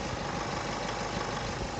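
A motorhome engine runs steadily nearby, a dense continuous rumble and hum with no pauses or speech over the short stretch.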